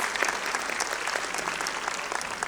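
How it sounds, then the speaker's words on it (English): Parents applaud at a preschool cultural event, a dense, even burst of crowd clapping sustained throughout at moderate loudness, with a faint murmur of voices beneath. "Let's give her a big round of applause, parents."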